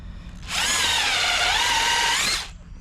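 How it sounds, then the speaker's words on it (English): A power drill bores a pilot hole into lumber for a DIY patio bench, one steady high whine of about two seconds that rises and holds near and loud, then stops. "What I do like to do is I like to drill a little bit of a pilot hole, because I don't want this lumber to split."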